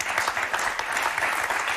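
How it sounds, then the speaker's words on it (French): A studio audience claps steadily throughout on the set of the French game show Motus. The applause is dense and fairly close, with no clear speech. "on vous applaudit très très fort"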